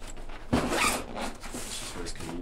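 A waterproof zipper on a tote bag being pulled shut, a close rasping zip with a sharp start and a steady drag, with faint talking mixed in.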